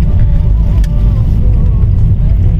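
A car drives along a shortcut street in Riffa, Bahrain, on a rainy day. The engine and road noise form a loud, steady low rumble from inside the moving vehicle, with no pauses.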